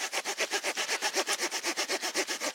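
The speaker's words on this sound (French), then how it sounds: "ça reste une petite scie de poche" A Leatherman Signal pocket saw cutting through wood, giving a steady, fast back-and-forth rasp of about eight strokes per second, close and fairly loud, with no talking.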